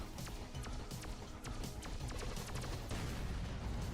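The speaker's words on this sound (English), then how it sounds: "He's using his overpower shots" Overpower shots fire in the space combat video game Interstellar Sentinel 2, a steady dense barrage of sharp energy blasts running continuously over constant background game noise.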